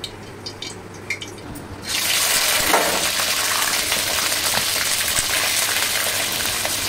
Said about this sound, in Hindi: अब हम इसे इसमें फ्राई करेंगे